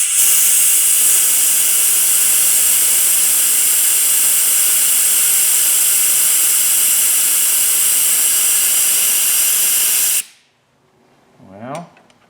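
Compressed-air tool running against a stubborn bolt on a Kawasaki motorcycle: a loud, steady, unbroken hiss lasting about ten seconds that cuts off abruptly, followed by a brief voice.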